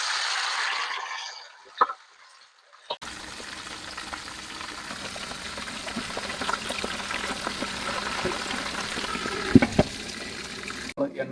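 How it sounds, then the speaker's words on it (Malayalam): Chicken being deep-fried in oil for a Kerala thattukada-style whole chicken fry: after a short quiet start, a continuous soft sizzle and bubbling sets in, with a few sharper crackles and pops. "എണ്ണയിൽ സാധനം ഇട്ടിട്ടുണ്ട്."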